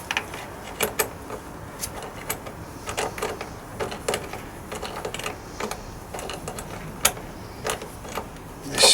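Metal clicks and ratcheting taps from an 8 mm tool tightening a worn battery terminal nut on a Lancia Delta, a busy run of close, irregular mechanical ticks throughout with no talking.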